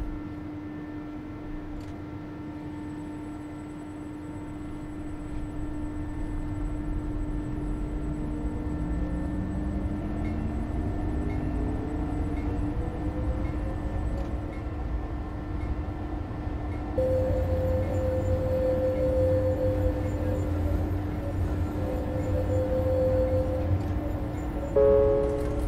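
A tram in OMSI 2 starts off and drives, its motor whine rising in pitch as it accelerates over a steady rumbling hum, with a brief tone partway through.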